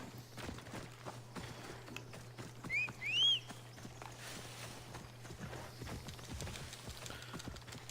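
Horse hooves clip-clopping faintly in the Assassin's Creed Odyssey video game, soft distant footfalls under a steady hum, with a brief whistle-like tone in the middle.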